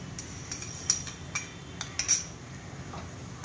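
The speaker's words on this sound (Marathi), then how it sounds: "आता हा पुन्हा एकदा आपण हा ढवळून घेऊया व्यवस्थित आणि याच्यात घालूया आपण आता साखर" A utensil scraping and clinking in a pan while pineapple sheera is stirred and sugar is added, with a few sharp metallic taps and clinks over a quiet kitchen background.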